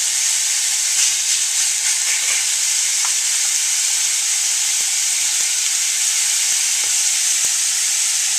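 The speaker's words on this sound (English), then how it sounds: "we're going to cook this until it's brown on both sides" Thin beef strips for stroganoff frying in a pan, a loud steady sizzle and hiss close up throughout with occasional faint pops and clicks, no talking.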